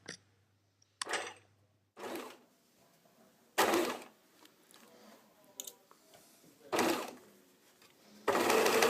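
A sewing machine stitches the neckline and armhole of a garment in several short bursts with pauses between them, fairly close, with light handling clicks in the gaps.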